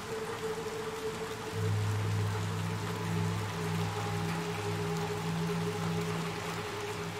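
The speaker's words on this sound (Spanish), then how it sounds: "Está cayendo un aguacero." Heavy rain pours steadily in the video game Little Nightmares 2, a dense continuous hiss of downpour with a low droning hum underneath and no voices.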